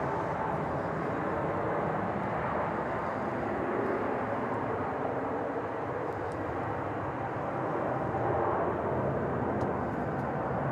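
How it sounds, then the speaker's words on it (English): A sixteen-year-old Qatar Airways Boeing 777 at Melbourne Airport at night, its jet engines a steady, broad roar held at a distance for the whole stretch, no voices over it. "Listen to that triple A. Yeah. Qatar 777 with the oryx tail."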